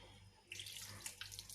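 Water runs from a tap or is poured onto dry couscous grains in a bowl, a soft trickle starting partway through and ending with a brief louder splash, close and fairly quiet.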